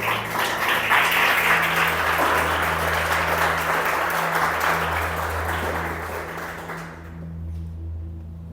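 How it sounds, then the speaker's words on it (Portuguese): A church congregation applauding, steady dense clapping that fills the room for several seconds over a low sustained hum, then tapering off at the end. "Dê um aplauso a Jesus por isso."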